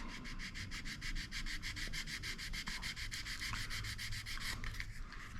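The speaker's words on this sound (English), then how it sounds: "Let's sand this down a little bit." Sandpaper rubs rhythmically back and forth on a plastic model aircraft part from a Matchbox Ju-188 kit, producing quick, steady, close scratchy strokes that continue throughout.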